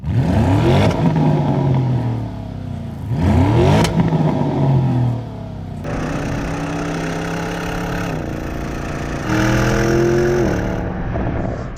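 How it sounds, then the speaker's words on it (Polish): Big-engined Porsche Cayenne GTS accelerating, with two loud rising revs and sharp drops at each shift, then a sustained climbing engine note through further gears, close and dominant with no voices. "wielki silnik i wspaniale przy tym jest w stanie przyspieszać, no i też brzmieć"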